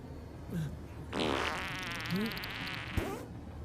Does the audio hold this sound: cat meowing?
no